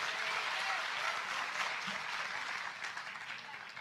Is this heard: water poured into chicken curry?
no